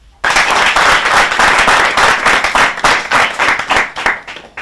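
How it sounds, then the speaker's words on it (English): A studio audience at a televised quiz show claps for the contestants, a loud, dense burst of applause that begins abruptly and continues steadily before breaking into more scattered claps toward the end. "Applause for all the contestants."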